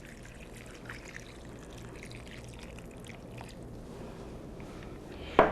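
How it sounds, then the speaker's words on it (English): Water is poured into a pot of green beans and chicken stock, a steady close trickle and splash that runs throughout and ends with a sharp clunk. "Just add water."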